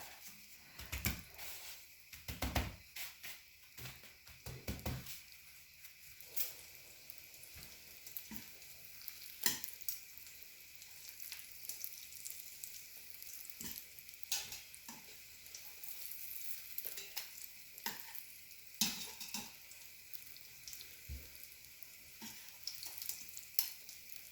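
Breaded eggplant slices fry in a pan of hot oil, giving a steady soft sizzle broken by frequent sharp crackles and pops, fairly quiet and close, with no voices.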